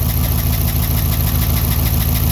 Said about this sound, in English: I just love the way these engines sound.